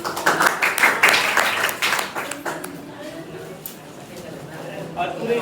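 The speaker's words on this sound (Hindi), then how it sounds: "टीम ताली हो जाए" A classroom of students claps for a team, with sharp, fairly close clapping for about two seconds that quickly thins into scattered claps and quieter background noise.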